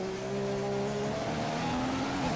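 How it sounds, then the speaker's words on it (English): A racing video game car engine drones and revs steadily during a race in Bahrain, with pitch dipping and rising as the car brakes hard into corners and the tyres lock up. "Every time I go into a corner, I lock up the tyres."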